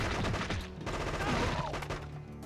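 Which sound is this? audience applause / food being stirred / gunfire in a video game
gunfire in a video game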